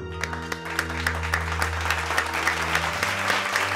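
Steady applause from a small crowd, a dense run of claps at moderate level over light background music, with no voices.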